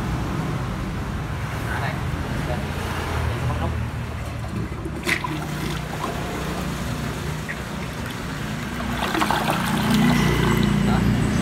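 An imported NOTO toilet runs its swirl flush, giving a continuous rushing, gurgling roar of water throughout while someone talks over it.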